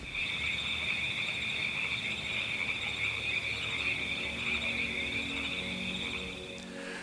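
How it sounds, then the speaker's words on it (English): Toads and frogs calling at night on a Portugal homestead, a dense continuous chorus of trilling croaks rising steadily and loudly over the whole stretch. "right now it's just so loud with toads, frogs"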